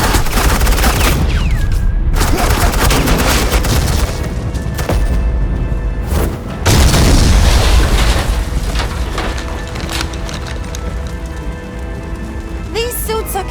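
Suppressing gunfire in the Batman: The Enemy Within video game, dense rattling bursts of shots and booms that come loud and close, break off briefly, then return, with a faint voice in places.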